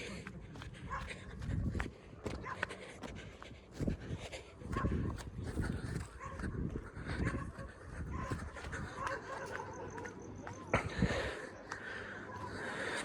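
Dogs bark and whimper close by amid shuffling footsteps and rustling outdoor noise during a night search for thieves, with brief bursts of activity throughout.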